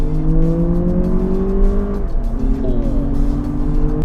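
Lexus RX 500h F Sport hybrid SUV pulling away from inside the cabin, a steady engine and drivetrain drone with smoothly rising tones that briefly dip near the middle as it shifts, then climb again.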